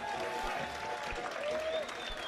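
Faint, distant football stadium crowd applause for a substituted goalscorer continues steadily for a couple of seconds, low in level with a whistle-like tone drifting over it.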